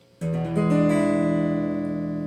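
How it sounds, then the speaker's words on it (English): A single strummed guitar chord with a bright, slightly tense dominant-seventh color, ringing out alone and slowly fading. "So that's the sound of a dominant 7th chord."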